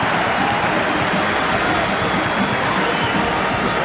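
Dense roar of a large football stadium crowd of over 40,000 in Columbia, cheering steadily at a college game, sustained and loud throughout with no break.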